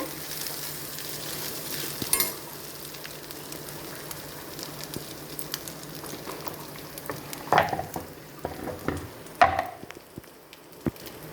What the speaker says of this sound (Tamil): மிளகு தூள் போட்டு கொஞ்சம் நல்லா கலக்கிடுங்க